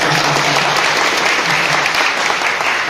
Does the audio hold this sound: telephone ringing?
no